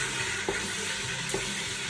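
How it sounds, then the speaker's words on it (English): Steady sizzling of chicken curry frying in a hot pan, with a couple of soft stirring scrapes. "Listen to the sizzle."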